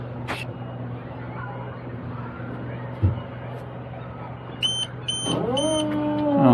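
A Niftylift HR28 aerial work platform runs with a steady low motor hum, broken by a single knock, then rising electronic tones and a whining sweep toward the end.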